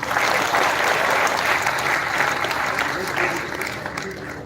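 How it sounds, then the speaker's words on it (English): A crowd applauds at the Techspardha'22 inauguration ceremony, a dense, steady wash of clapping that holds strong for several seconds before gradually thinning toward the end. "Please give a huge round of applause for the sir."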